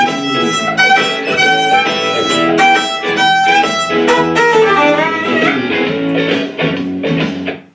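A violin plays a minor blues lick in E over a full backing track, its bowed phrases riding above a steady band groove of bass and chords, close and loud with no talking.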